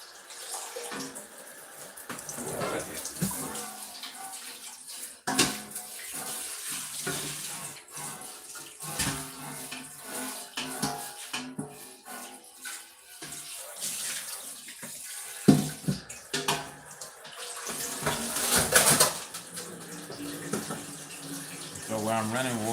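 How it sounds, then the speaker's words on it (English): Water runs from a kitchen tap into a sink while someone preps a pan for canning pickles and tomatoes, a steady splashing flow under a person talking nearby, with light clinks of cookware. "while I'm running water in here"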